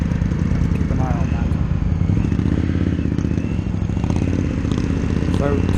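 Indian FTR1200 motorcycle engine running steadily and loudly close by on a road test ride, a continuous low throbbing drone with slight throttle swells, and a voice talking over it at moments.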